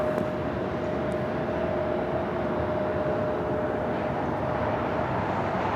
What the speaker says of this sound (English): Next takeoff on 25 right is United Airlines flight 1701 heading to Baltimore, 737 at MAX 9.